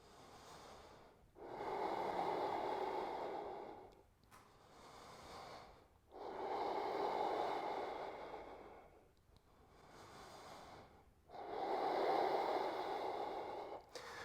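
Deep, slow breaths during a yoga flow, with three long audible exhales rising and fading in a regular rhythm, close and fairly soft, separated by quiet pauses.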